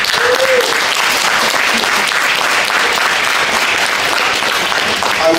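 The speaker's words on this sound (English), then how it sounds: "I think that deserves a big round of applause." Loud, sustained applause from a crowd honoring a champion after a fight result, dense clapping that fills the whole stretch, with faint voices briefly audible underneath.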